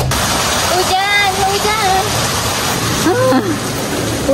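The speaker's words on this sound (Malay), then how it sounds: "Hujan bro." Steady rain falling around a parked car, a dense continuous hiss with people talking over it.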